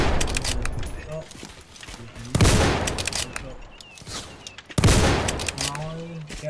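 Gunfire in the trench-warfare video game Entrenched, with loud rifle cracks and rattling bursts at close range, two heavy booming blasts standing out amid busy battlefield noise.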